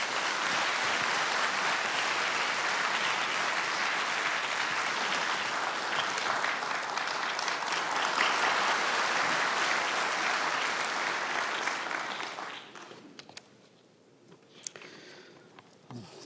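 Large audience at a formal ceremony commemorating the inscription of Korea's separated-family search records as world heritage, giving sustained dense applause for about twelve seconds before it fades into a quiet hall with a few stray claps.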